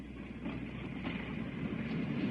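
A train running as a radio drama sound effect, a steady low rumble and rolling clatter of rail travel that swells slightly and holds at a constant distance without talk.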